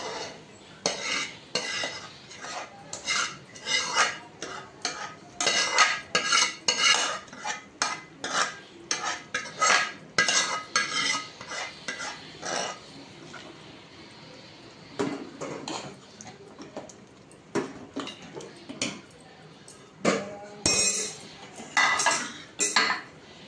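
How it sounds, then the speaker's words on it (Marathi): A spoon stirs and sautés masala in a metal pan, making repeated close scraping and clanking strokes in uneven bursts with short pauses between them, and a faint sizzle beneath. "याच्यात हा मसाला परत केला."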